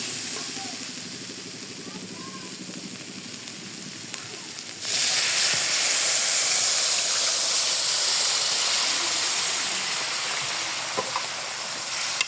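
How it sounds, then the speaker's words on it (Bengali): Water is poured into hot oil over fried lentils for an okra dal, and after a quieter frying sizzle a sudden loud, sustained steam hiss erupts and continues strongly to the end. "এখন আমি এখানে পানি দিয়ে দিব।"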